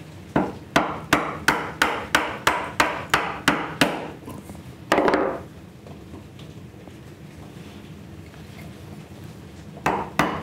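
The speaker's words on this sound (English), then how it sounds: "now I'm going to drop the knife, drop the chisel" A chisel is struck into a knife line in wood with a mallet, about a dozen evenly spaced sharp hammer blows in quick rhythm, then a scraping rush, quiet, and two more blows at the end.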